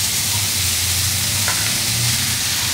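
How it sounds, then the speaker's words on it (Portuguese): A mixture sautés in melted butter in a hot pan over high heat, giving a dense, steady, close sizzle and crackle throughout, with no talk. "Agora eu vou refogar aqui por uns 2 minutos em fogo alto"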